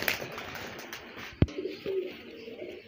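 A female flying pigeon, its feathers worn from heavy flight, is held in the hand and gives a short cooing call amid faint rustling and handling noise.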